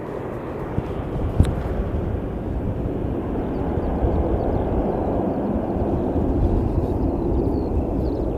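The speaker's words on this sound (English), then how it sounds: "That's the first landing since the ops change." Airliner landing at Christchurch airport, a steady low broadband roar of jet engines and rushing air that holds fairly level throughout, with a brief sharp click early on.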